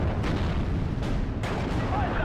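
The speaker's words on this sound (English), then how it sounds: "Going to go for the second shot here." A tank cannon shot in the World War II strategy game Steel Division: Normandy 44, with a loud, dense boom, ongoing battle rumble and a second blast closely following.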